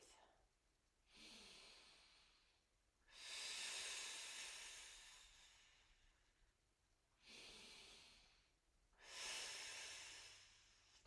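A person holding a plank takes slow, deep breaths: four long, airy hisses of inhale and exhale, close and fairly quiet, evenly spaced with short pauses between them.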